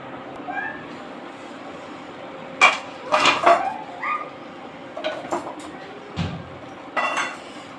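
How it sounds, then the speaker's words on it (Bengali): A lid goes onto a chicken biryani cooking pot with a quick cluster of metallic clanks and clinks, then a couple of softer knocks, over a low kitchen background. "এখন ঢাকনা দিয়ে ঢাকিয়ে দেব।"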